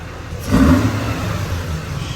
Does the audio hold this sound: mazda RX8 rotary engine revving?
yes